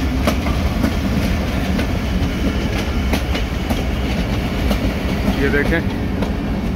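The packed 28 Down Shalimar Express passenger train rolls past on the Faisalabad route with loud, close rumble and rhythmic clickety-clack of wheels over rail joints, a brief squeal near the end, and someone speaking over it.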